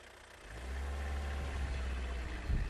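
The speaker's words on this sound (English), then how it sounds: "She starts the engine." A car engine turns over and runs, building into a loud, steady roar with rising revs, heard close and alone without any voices.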